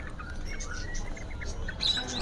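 Caged jalak banteng starlings in a bird shop give short, bright chirps and whistles, moderately loud over a dense rumbling background of shop noise.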